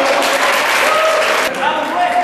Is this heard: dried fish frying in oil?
no